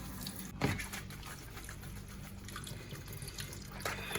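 Greens are rinsed in a strainer under a running kitchen tap in a Ghanaian home kitchen to wash out sand, with a steady stream of water, splashes and a few brief clatters close by.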